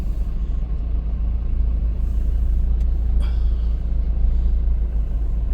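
Heavy vehicles stuck in traffic on a pothole-damaged bridge on the Pali-Pinjal route give off a constant deep engine rumble, with a short air-brake hiss partway through and no voices.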